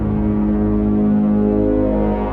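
Bass strings of a harp, run through a Tars fuzz and a JHS octave reverb pedal, make a thick, sustained, distorted drone. The tone is loud and close and holds steady with a rich, buzzy low end.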